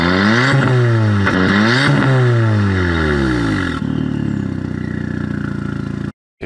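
A Fiat Seicento Abarth engine with an oil fault that makes the exhaust smoke under acceleration revs up hard several times, with rising and falling sweeps, then settles into a rough, clattering idle close to the microphone.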